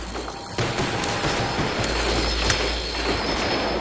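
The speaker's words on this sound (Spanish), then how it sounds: "De 8 tiros que tiene la pistola, nomás le di 2." Pistol gunfire in the zombies mode of the video game Call of Duty Black Ops, under a dense, continuous wash of game noise, with a couple of sharp shot-like peaks standing out.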